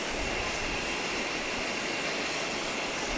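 A British Airways Boeing 777 landing at Owen Roberts International Airport, Grand Cayman, heard as a loud, steady jet engine roar with broadband rushing noise and no talking.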